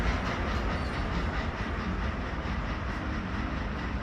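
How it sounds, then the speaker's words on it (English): Several trains run together on a custom map called Scorched Basin in a railroad video game, including a coal train, giving a steady, continuous rumble with faint rhythmic clatter of wheels on track throughout, with no talk. "All 3 trains that I own running around in the same spot."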